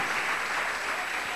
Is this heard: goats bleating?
no